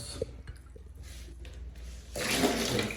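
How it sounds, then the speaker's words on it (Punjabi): Water is poured in a rushing, splashing gush that starts partway through and keeps going to the end, preceded by a few small knocks and drips. "ਲਓ ਜੀ ਪਾਣੀ ਪਾ ਲਿਆ"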